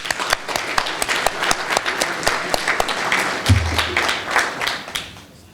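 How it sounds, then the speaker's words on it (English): Applause at a formal annual gala of a chamber of commerce, with individual claps standing out sharply over a steady crowd wash; a brief low rumble enters near the middle and the clapping thins toward the end. "Give him a big round of applause."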